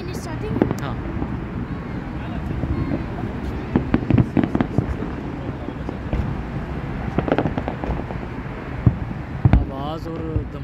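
Fireworks and firecrackers go off at a beach cornice on New Year's Eve, scattered muffled pops and bangs at a distance under wind buffeting the microphone and nearby voices.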